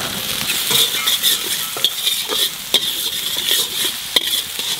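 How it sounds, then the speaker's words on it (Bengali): Bell peppers, beans and other vegetables stir-fried in a pan for egg fried rice: steady close sizzle with repeated scraping stir strokes spaced every half second or so, no talking. "এটা মোটামুটি 2 মিনিট মতো ভাজবো।"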